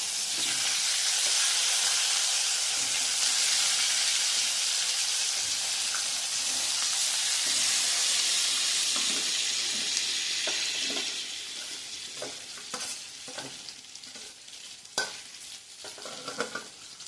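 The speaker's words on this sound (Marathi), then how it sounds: "हे जे मॅरिनेट केलेलं वांग आहे हे यामध्ये आपण घालणार आहोत" Marinated stuffed eggplant sizzling loudly in hot oil in a pan for Marathi-style bharli vangi, with a steady frying hiss that eases later as a spoon scrapes and stirs in irregular knocks.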